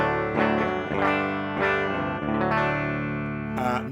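An electric guitar played direct with the amp plugin turned off plays a few chords and single notes, clean and thin with a bright, dry tone, no talking.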